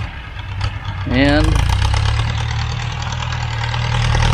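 A tractor engine idles at a construction site for a Thai home build, a steady low rumble that rises briefly with a rough whine, while someone speaks over it.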